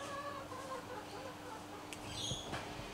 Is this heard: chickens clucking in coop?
yes